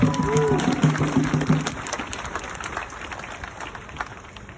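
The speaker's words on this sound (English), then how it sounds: "So please give yourself a round of applause." Crowd applause at an outdoor rally at San Francisco City Hall, clapping and cheering that follow a voice at the start, then fade slowly into a distant wash of claps.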